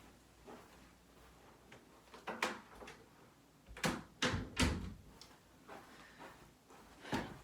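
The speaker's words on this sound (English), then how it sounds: "I'll shut the door." Indoor door being shut, heard as several close bumps and thuds clustered in the middle, with a softer knock at the end, set against a quiet room.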